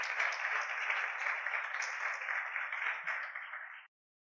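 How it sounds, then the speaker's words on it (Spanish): Church congregation applauding during a sermon, a steady roll of many hands clapping, moderately loud and uniform, cutting off abruptly after nearly four seconds into silence. "Aplauda al Rey de la Gloria."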